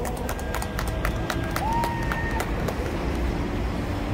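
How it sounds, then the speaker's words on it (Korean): An outdoor crowd at a 2022 political campaign rally on a city street corner claps in a steady, rapid patter that sounds somewhat distant, over a constant background roar. "위원장님께 박수 한번 보내주십시오."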